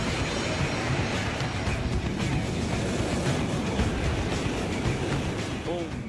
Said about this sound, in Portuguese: o trem-bala do Japão